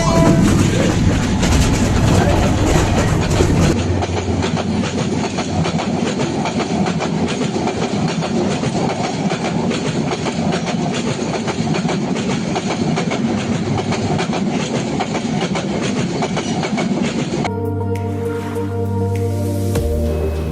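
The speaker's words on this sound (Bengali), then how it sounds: "নেত্রকোনার দুর্গাপুরের উদ্দেশ্যে যাচ্ছি ট্রেনে করে।" A passenger train bound for Durgapur in Netrokona runs on rails with a loud, continuous rumble and steady clickety-clack of wheels over joints, heard from inside the train. Near the end, a different, tonal hum takes over.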